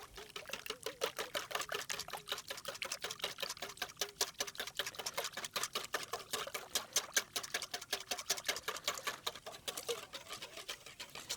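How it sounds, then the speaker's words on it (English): Eggs and buttermilk whisked in a bowl at a campfire cookout, making a fast, steady run of light clicking taps against the bowl's side that keeps going without pause and with no voices. "And then whisk the buttermilk and the eggs."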